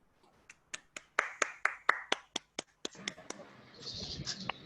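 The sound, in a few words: audience applause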